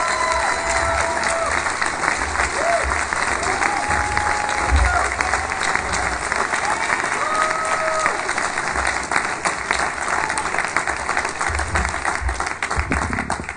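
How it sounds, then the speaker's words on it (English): Sustained audience applause and cheering fill a comedy keynote hall after a comedian is introduced at the Just For Laughs festival, a dense, steady roar of clapping and whoops with scattered shouts throughout. "Let's give him a big round of applause for Jim Norton."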